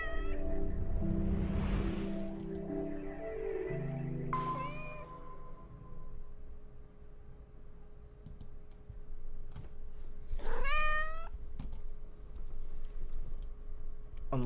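A cat meows in the 999 video game, with two or three drawn-out, wavering meows spread over the stretch among game music tones and clicking, and no talking.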